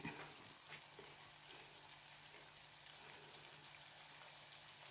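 Crispy turkey pieces fry in hot oil for sweet and sour turkey, a faint, steady hiss and bubbling sizzle that runs evenly throughout with no voices.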